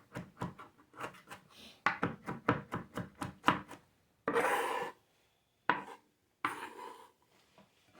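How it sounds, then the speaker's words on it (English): A knife chops food on a wooden cutting board while curry chicken is being prepared, a run of quick close thuds in bursts, then a few longer scraping sweeps across the board with short pauses between. "then we just chop this up"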